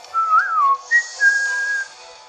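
A short melodic whistle in a Pokémon video game, two clear rising-and-falling tones played close and loud, alone against silence.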